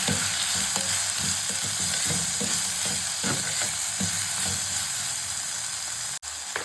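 A medium-size tomato sautéing in a pan for rasam gives a steady, loud sizzle and crackle, with a few stirring scrapes and a brief dip near the end, and no voices.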